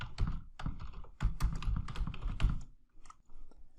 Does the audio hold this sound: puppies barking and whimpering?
no